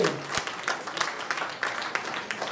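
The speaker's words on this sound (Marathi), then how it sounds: "टाळी अवश्य" Scattered clapping from an audience at an inauguration ceremony, a modest, fairly quiet patter of separate hand claps at a moderate distance.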